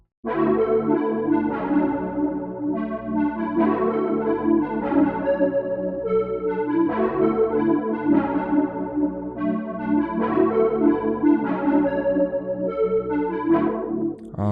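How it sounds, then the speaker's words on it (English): A warm, buzzy square-wave synth pad from Zenology plays sustained chords that shift in a slow, repeating progression, full and steady with no voices. "started with this MIDI that Eli sent me, and I put it in this patch in Zenology called Squaresoft Pad"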